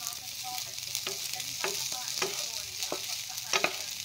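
Garlic fried rice (sinangag) with bitter gourd being stirred and fried in a pan, with a steady sizzle under scattered scraping clicks from the spatula.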